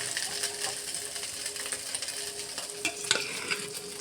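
Fried rice stirred in a pan, with a steady sizzle and scraping, clattering spatula strokes throughout and a sharper clink near the end.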